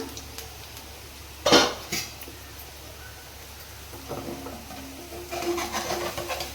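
Bottle gourd sarva pindi gets flipped in a non-stick pan: a sharp metallic clank of utensil against pan, a couple of lighter knocks, then soft scraping and clatter toward the end.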